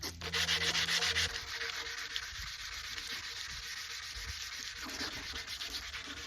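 Handheld rounding polisher working the edge of a cast concrete bench, giving a steady, close grinding whir that starts louder with a low hum, then settles into a continuous rubbing drone.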